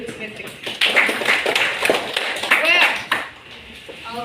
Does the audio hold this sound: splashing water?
no